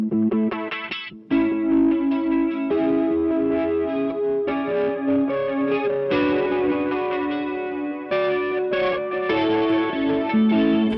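An electric guitar played through a pedalboard with a chorus pedal engaged after distortion, giving shimmering, warbling chords and sustained notes that ring out in repeated phrases for about eleven seconds, with a brief gap near the start.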